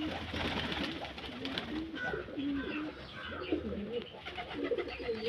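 Pigeons coo continuously while pecking at balanced feed, several birds close by, low throaty coos overlapping over a busy background of shuffling and faint voices.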